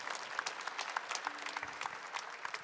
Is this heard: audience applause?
yes